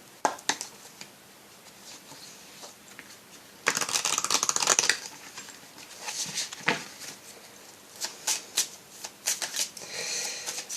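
Animal guide oracle cards being shuffled by hand, with soft riffling bursts, a louder flurry partway through, then quick repeated card slaps and flicks close to the microphone, no voice.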